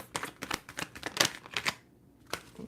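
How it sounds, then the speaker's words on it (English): Tarot cards are shuffled by hand in a quick series of crisp riffling bursts, about seven close together, with a brief pause near the end before one last flutter. "Why that shuffle so difficult?"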